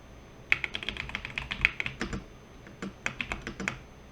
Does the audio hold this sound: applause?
no